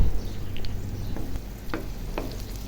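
Onion fries in hot oil with a crackling sizzle, stirred now and then with soft scraping knocks, close and moderately loud.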